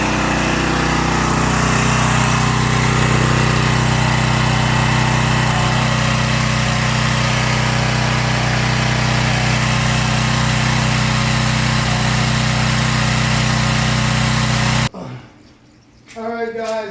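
A soft washing pump's small engine runs loud and steady at close range for about fifteen seconds, then cuts out abruptly, leaving a brief quieter stretch with a voice speaking.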